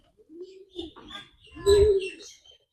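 Pigeons kept near chickens on a small farm give a few soft, low coos at close range, with a brief chirp between them in otherwise quiet surroundings.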